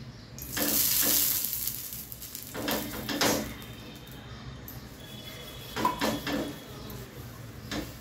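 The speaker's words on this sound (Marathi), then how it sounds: "ह्या कावीला मी तेल लावून घेते।" Oil sizzles on a hot griddle heated on a medium gas flame for sprouted moong dosa, coming in a few intermittent hissing bursts of moderate loudness.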